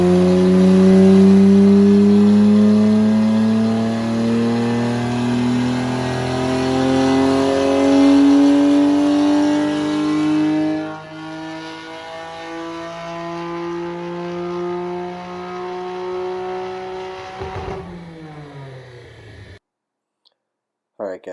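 A Nissan R32 GTR on an E85 tune revs hard and loud, engine note climbing in sustained pulls with popping and crackling, then dropping off and cutting to near silence near the end.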